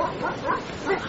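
Dogs bark and yip in a few short, rapid bursts in a horror story sound effect, close and fairly loud, with no talking.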